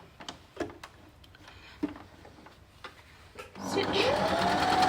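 A sewing machine stitches a 9 patch quilt block, running steadily and loudly through the last second or so after several short taps and brief pauses.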